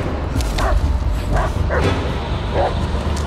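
A dog barks and yips in the Blair Witch video game, several short barks spaced across a few seconds over a steady, dark ambient background.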